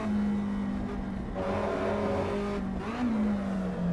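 A race car engine in the Assetto Corsa EVO driving game revs and holds a steady droning note, shifting pitch as the throttle changes, loud and continuous with no talk.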